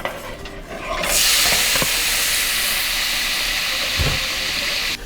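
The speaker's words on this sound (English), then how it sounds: "the pork is now sizzling" Steady, loud hissing sizzle of pork frying in a hot pan, rising sharply after a second and continuing evenly, with a faint clunk near the end.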